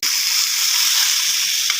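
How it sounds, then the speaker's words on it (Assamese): Chicken pieces frying in a hot pan on high heat, a loud steady sizzle and hiss of steam throughout, close by, with no talk. "তেনেকৈ ফুল ষ্টিমত ভাজিম অলপ দেৰি"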